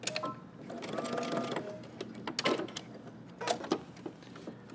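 A domestic sewing machine stitches a seam on a Simplicity 8615 jumpsuit, a steady close whirring run that pauses briefly, then short bursts of stitching with small clicks and handling knocks in between.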